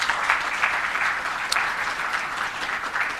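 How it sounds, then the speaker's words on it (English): Applause from a forum audience in Ghana, gathered for a talk on investing in waste management and sanitation: dense, sustained clapping from many people, fairly loud and continuous, with no speech on top. "I think he deserves another round of applause."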